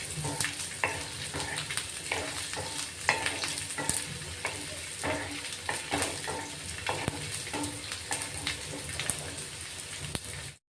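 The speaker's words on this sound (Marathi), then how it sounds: "लसूण तेलात परतून घ्यायचा" Garlic sautéing in hot oil for a chutney, a dense, steady sizzle with sharp crackles and pops scattered throughout, close and fairly quiet.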